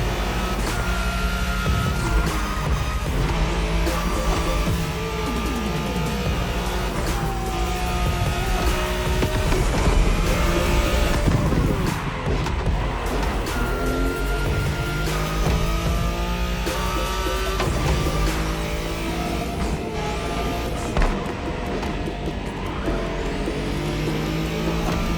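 Racing car engines in The Crew Motorfest during a Wangan highway race on the Tokyo Bayshore route, featuring a Skyline, roar steadily and loudly throughout with shifting revs, dense and continuous with no pauses.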